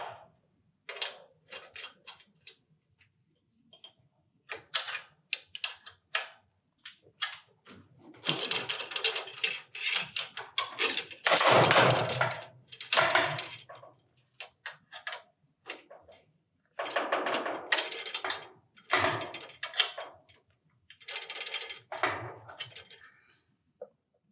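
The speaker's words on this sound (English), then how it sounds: "So this spring is stretched, and now we'll go over and stretch the other spring." A Safe-T-Winder tool winds and stretches a door spring, giving clustered metallic ratcheting clicks in bursts separated by pauses, close and moderately loud.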